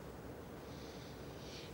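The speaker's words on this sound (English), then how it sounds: "I think give it a little sniff." A short nasal sniff of chloroform, a single close, quiet inhalation through the nose against a faint background.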